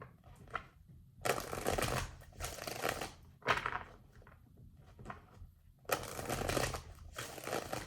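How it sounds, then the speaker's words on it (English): Tarot cards being shuffled by hand in several separate bursts of riffling and rustling, close and fairly quiet, with short pauses between each shuffle. "One more shuffle. 4 cards, please,"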